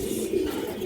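A red male pigeon coos softly, a low muffled murmur lasting under a second, faint against a quiet background.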